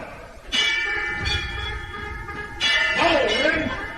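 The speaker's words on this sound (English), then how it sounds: "Ring the alarm bell!" An alarm bell clangs loudly twice, each strike followed by a long ringing tone that fades slowly, with low rumbling underneath.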